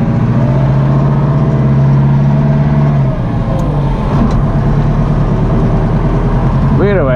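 An old Ford 7610 tractor hauling a trailer of potatoes labours under load, its deep diesel drone steady and loud close by, the pitch bogging down and shifting as the engine strains, with a brief rising whine near the end.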